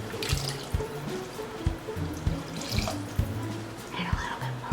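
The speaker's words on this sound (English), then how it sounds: "Add in more water." Tap water pours steadily into a pot of homemade beef stew with sliced carrots in a kitchen, a continuous close rushing splash with occasional low knocks and no voices.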